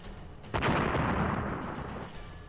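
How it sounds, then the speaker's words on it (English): A cannon in the video game Toss the Turtle fires once with a sudden broad blast that rolls off into a noisy, fading rush, fairly quiet overall and heard alone. "This is a powerful cannon."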